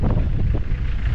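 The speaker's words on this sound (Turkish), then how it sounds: "Şu rüzgar çıkıyor be." Strong wind buffets a microphone outdoors, a steady loud rumbling roar filling the short moment with no voices.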